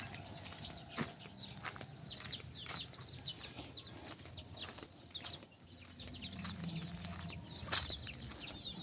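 Chickens and chicks of a backyard flock clucking and peeping in a steady, overlapping stream of short calls, with occasional louder squawks and a brief flutter of wings, all fairly close with no talking.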